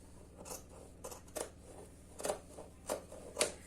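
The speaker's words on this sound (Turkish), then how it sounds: "Şimdi hemen bunu da kesiyorum." Scissors cutting fabric for a tunic, with a series of about seven crisp snipping strokes at irregular intervals, close and fairly quiet, with no talk.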